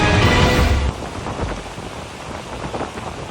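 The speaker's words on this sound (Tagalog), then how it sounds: "Tila isinayaw ng malakas na hangin kasabay ng ulan ng mga sanga sa Boracay sa Malay Aklan" Heavy rain and wind roar during a typhoon in Boracay, Malay, Aklan, loud and dense at first, then easing to a steady wash of rain with gusty surges.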